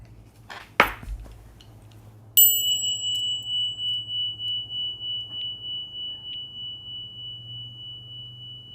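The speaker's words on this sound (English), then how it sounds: "That is a serious bell." A resonant bell in a Buddhist sutra lecture hall is struck once after a soft click and rings out alone, its clear sustained tone slowly fading and pulsing over several seconds.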